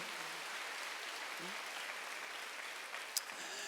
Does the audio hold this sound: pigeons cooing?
no